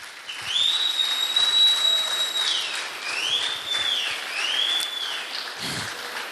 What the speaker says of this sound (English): Keep clapping until she gets to the stage.